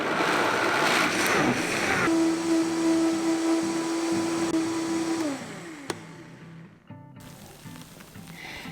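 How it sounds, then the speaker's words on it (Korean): A blender whirs loudly with a steady motor hum, finely grinding soaked mung beans with water for several seconds before winding down and stopping. "물 4컵과 함께 믹서에 넣고 곱게 갈아주세요"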